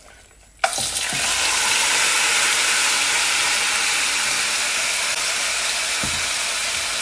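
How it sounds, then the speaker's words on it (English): Seasoned turkey wings hit a hot pot for brown stew, bursting into a loud, steady sizzle that starts abruptly after a quiet moment and holds close and constant. "it is now time for us to add in our seasoned turkey"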